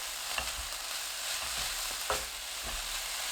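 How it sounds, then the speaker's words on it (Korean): Cabbage being stir-fried with red chili in a pan, a dense continuous sizzle with a few soft stirring scrapes, close and even in level, no talk. "홍고추 넣고 30초 볶아주세요."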